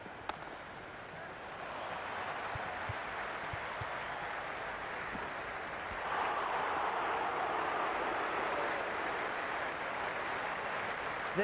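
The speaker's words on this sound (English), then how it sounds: "The spectators are absolutely buzzing right now." A stadium crowd in the Cricket 26 video game keeps up a continuous roar and murmur of cheering that swells louder about halfway through, faint and distant, with no clear voices over it.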